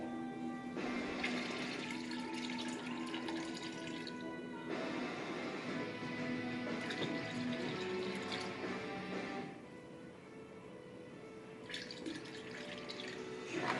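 A yeast starter with two packs of SO4 yeast pours and splashes into a fermenter in a few bursts, a bubbling, trickling stream heard up close, fairly quiet, with no speech, while brewing a stout.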